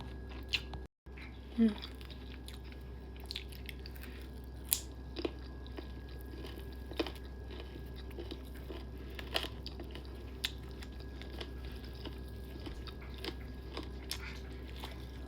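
Hot wings being bitten and chewed at close range, faint wet crunches and smacking bites scattered through a low background hum, with people talking softly over it.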